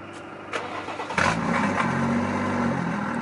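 A car engine starts without cold start at a Monterey Car Week event, a brief crank catching into a loud, steady idle that holds close and strong to the end.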